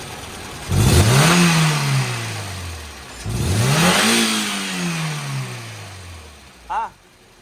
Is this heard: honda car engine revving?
yes